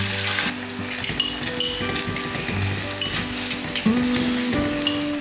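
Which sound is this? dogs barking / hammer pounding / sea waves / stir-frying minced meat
stir-frying minced meat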